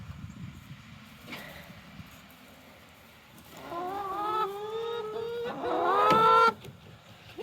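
Chickens are let out of their coop in the morning, their squawking, rising calls building in a few loud bursts over a quiet outdoor background.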